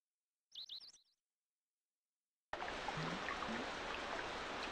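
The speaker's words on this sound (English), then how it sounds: "A bird!" Birds chirp in the SNES video game Secret of Evermore: a short burst of several rapid, high-pitched game tweets, followed by a steady, dense ambient wash like flowing water.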